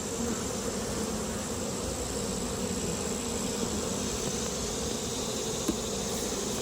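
Honeybees in an open hive drone in a steady, continuous buzz, close and fairly loud throughout, with no voices over them.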